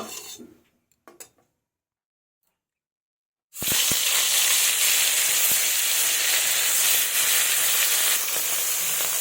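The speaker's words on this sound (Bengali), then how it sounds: "সরিষার কড়াই আমি তেল দিয়ে দিয়েছি এবার মাছগুলো ছেড়ে দেবো" Fish goes into hot mustard oil in a wok: after a near-silent pause, a sudden loud, close sizzle erupts and keeps hissing steadily to the end.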